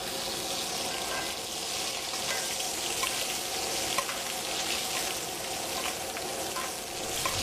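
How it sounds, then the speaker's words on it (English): Skirt steak rubbed with curry spices sizzles steadily in a hot pan as foaming butter is spooned over it, a constant close frying hiss with faint clinks and scrapes. "I'm going to start basting the steak."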